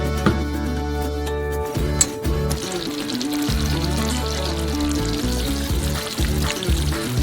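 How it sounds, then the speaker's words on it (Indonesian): Caramel of corn syrup and water bubbling in four pots at once on a stove, a continuous sizzling, frying-like texture under a steady low hum, with no talking. "Rebus karamel selama kurang lebih 10 menit"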